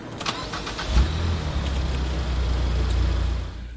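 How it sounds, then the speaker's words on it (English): A Ford Fusion engine fitted with a Fusion EcoFlow axle-back exhaust cranks and catches, then settles into a low, steady idle with a soft exhaust rumble close by. "You can hear that the engine's running is basically what we're experiencing."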